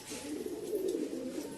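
A white pigeon coos in a low, steady, rolling murmur, close and continuous with no other sounds around it.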